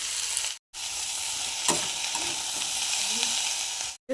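Soybean chunks, potato and grated beetroot frying in a pan, a steady hiss with faint stirring scrapes, two brief gaps where the sizzle drops out.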